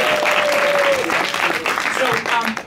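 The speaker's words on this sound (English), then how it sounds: "can I have a huge round of applause?" A studio audience at a live children's storytelling show claps in a dense, sustained burst of applause that fades near the end, with a voice talking over it.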